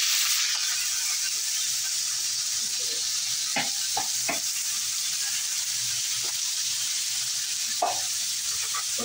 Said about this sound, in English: we're just going to dump all the onions and peppers and stuff along with that in there